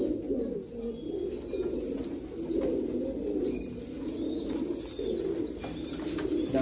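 A Royal Teddy pigeon, a KTM Teddy breed, coos in low repeated throaty phrases at close range, with a faint high chirping in the background and a brief flutter of wings toward the end.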